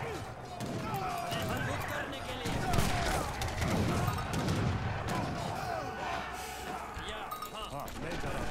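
Cannon and gunfire in an Age of Empires 3 battle boom and crackle in dense overlapping bursts amid a busy clash of game sounds, with a voice talking over the top.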